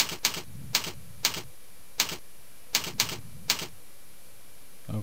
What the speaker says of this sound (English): Once again, press the backspace.